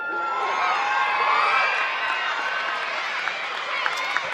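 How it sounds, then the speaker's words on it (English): A stadium crowd at the Sydney Track Classic athletics meet cheers and applauds for runner Jess Hull after a women's 3000m race, a broad swelling roar with whoops, lingering under an announcer's voice. "Let's have a big round of applause for Jess Hull."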